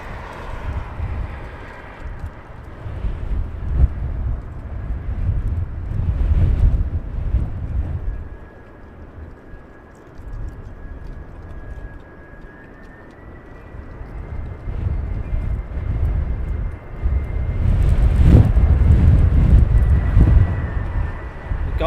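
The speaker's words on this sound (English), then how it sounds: "That wind, where's the wind come from?" Wind gusts across a microphone at Heathrow Airport as a loud, low rumbling buffet that rises and falls in waves, with a faint steady hum of a distant aircraft beneath.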